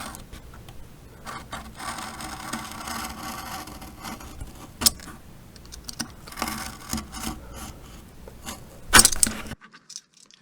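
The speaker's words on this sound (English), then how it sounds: "you can just lay it down a bit and the knife will cut nice and straight" Knife blade drawn through leather while cutting out a small wallet pocket, heard as close, soft scraping strokes with occasional sharper clicks and taps, then sudden quiet.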